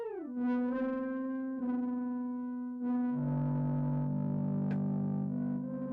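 A synth note runs through a resonance distortion effect from Arturia FX Collection 6, a buzzy sustained tone with shifting resonant overtones, restarted a few times and layered with a lower note later on.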